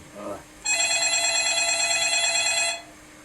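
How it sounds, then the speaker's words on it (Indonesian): A telephone rings with one long, loud electronic trill as a call comes in to a radio show, following a brief moment of speech. "Masuk lagi telepon."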